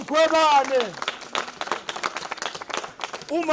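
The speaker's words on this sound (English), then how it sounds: "We must clap hands for Mpumalanga." A crowd at a political gathering for Mpumalanga claps in a brisk burst of scattered hand claps, framed by a voice shouting at the start and again at the end.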